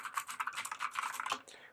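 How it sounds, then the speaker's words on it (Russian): Keys on a Motospeed Inflictor CK104 mechanical gaming keyboard click in a quick, uneven run of sharp taps, close and fairly loud, with no talking over them. "Все щелкает, все отлично."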